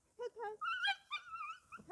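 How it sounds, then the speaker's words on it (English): A dog gives a rising run of high, strained whimpers and yelps, close and fairly loud, in short bursts over two seconds. "Who's barking?"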